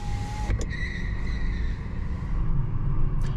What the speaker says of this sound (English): we are now driving with just electric power